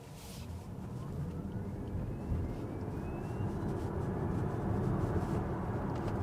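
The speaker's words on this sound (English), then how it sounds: "Nice quick acceleration on electric power" A 2024 Alfa Romeo Tonale Ti plug-in hybrid crossover accelerates on electric power, with a steady road and wind roar and a faint electric whine climbing in pitch early on. No talking.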